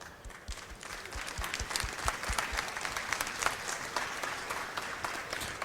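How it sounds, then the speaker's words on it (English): An audience at a tech conference stage claps after a talk, a dense, sustained round of applause that swells after the first second and holds steady. "Applause."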